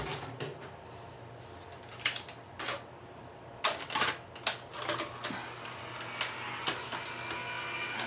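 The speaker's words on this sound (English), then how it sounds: "You don't want it to move while you go through the die cut machine." A paper cardstock piece rolling through a die cut machine gives a series of irregular clicks, cracks and crunches against a low background hum, with sharper bursts clustered in the middle and later part.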